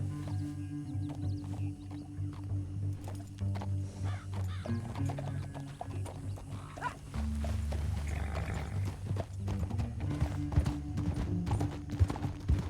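Horse hooves clip-clop steadily in Red Dead Redemption 2, a continuous rhythmic trot over low engine-like game ambience and other in-game effects.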